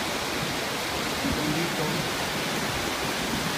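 Darbat waterfall pours steadily in a dense, loud, unbroken rush of falling water, with a voice briefly speaking over it.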